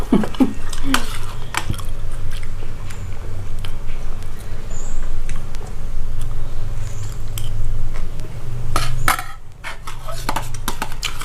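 Crispy pork belly is bitten and chewed up close, with loud crunching bites in irregular bursts over a low background murmur.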